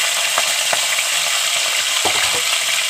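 Fish heads sizzle and fry loudly in a hot pan, a steady dense crackle with a few brief stirring knocks, no voices over it.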